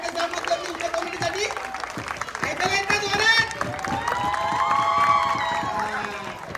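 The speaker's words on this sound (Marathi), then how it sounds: "जरा जोरदार टाळ्या होऊन जाऊन दे" An audience at a puja celebration claps and cheers, a steady wash of applause mixed with crowd noise, while people talk and music plays over it.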